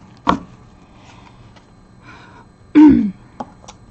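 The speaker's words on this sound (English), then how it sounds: "I clear my throat in every video" A short, rough throat clearing, then a louder, longer one a few seconds later, with faint shuffling in between and no talking.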